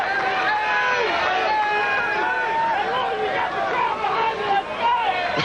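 A dense crowd at a 1994 beach volleyball match in Clearwater roars and cheers continuously, a loud steady wall of voices with whistles and shouts rising over it throughout.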